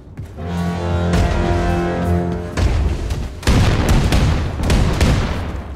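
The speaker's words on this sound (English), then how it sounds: "Stop shooting me." Loud gunfire and booming blasts in the video game Wolfenstein II: The New Colossus, with a sustained droning tone followed by repeated sharp, heavy bursts.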